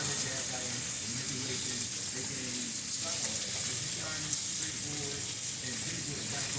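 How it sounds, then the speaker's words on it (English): Italian sausage sizzles steadily while browning in a pot, a continuous frying hiss with scattered small pops running throughout at moderate, close level. "Gotta be careful with sausage because it likes to pop like popcorn."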